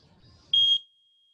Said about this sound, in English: Mateo, guess we'll start the timer.